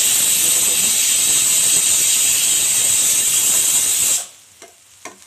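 A spoon stirs dry bitter gourd fry with fresh coriander in a hot pan, giving a steady loud sizzling hiss for about four seconds before it cuts off, followed by a couple of faint clinks.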